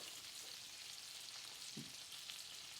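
Salmon sears in a pan of brown butter with a steady, close sizzle and hiss, a soft stir-like knock briefly standing out.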